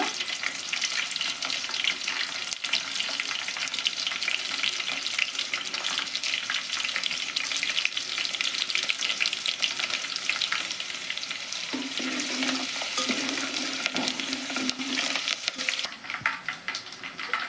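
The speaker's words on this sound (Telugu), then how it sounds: "ఎండుమిర్చి అయితే వేస్తున్నానండి కొద్దిగా పోపు దినుసులు కూడా వేస్తున్నాను" Dried red chilies and tempering spices frying with onion pieces in hot oil for a ridge gourd curry: a continuous, busy crackle and sizzle throughout, with a few soft utensil taps late on and no speech.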